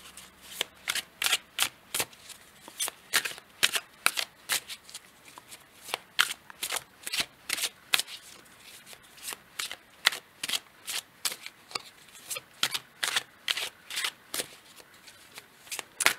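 Tarot cards are shuffled before a draw, a steady rhythmic series of crisp slapping flicks repeating roughly every half second, close but quiet, with no voices.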